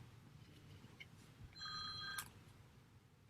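A mobile phone rings briefly during a talk about a Hollywood photograph, a short electronic ringtone of bright repeated tones over steady room noise, rising for about half a second before cutting off.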